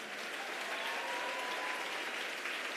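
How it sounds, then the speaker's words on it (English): Steady, dense applause from a graduation ceremony crowd for Secretary of State John Kerry at MDC, sustained and even throughout with no voices on top. "Please join me in giving Secretary Kerry another round of applause"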